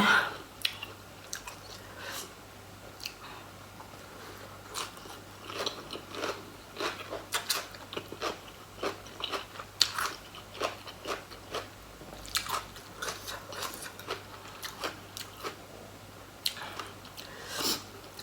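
Friends eating spicy Thai papaya salad (som tam), heard as close, steady wet chewing and crunchy bites with squishy mouth sounds, repeating through the whole stretch, with faint voices now and then in the background.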